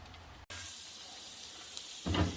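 Diced potatoes sizzle under a basting lid on a hot Blackstone griddle, a steady, even hiss that swells louder near the end.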